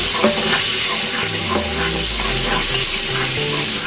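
Fish frying and being stirred with garlic paste, ginger paste, chilli powder, coriander powder and salt in a pressure cooker, a steady loud sizzle with scraping stirs throughout, no voices.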